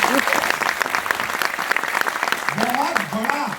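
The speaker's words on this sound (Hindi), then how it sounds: "मैं चाहूंगा एक बार जोरदार तालियां" An audience at a business event in India bursts into loud, dense applause that stays strong throughout, with a voice briefly audible over the clapping near the end.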